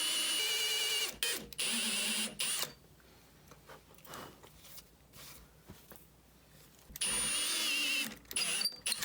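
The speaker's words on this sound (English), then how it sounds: "So it turns out my reamer fits in my drill" A drill spinning a reamer through a custom guitar body's hardware hole whirs in short, loud bursts, with quieter handling noises during a pause in the middle.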